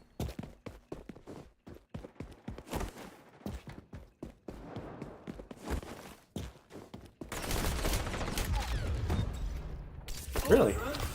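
Shotgun blasts in the online shooter XDefiant, a string of sharp, loud reports spaced irregularly over game sound, later giving way to a dense, busy stretch of continuous noise.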